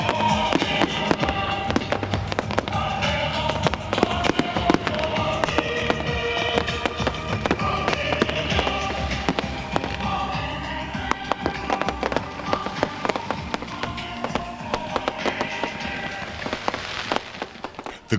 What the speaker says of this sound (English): The grand finale to the evening is a firework display, which comes to a rather premature end.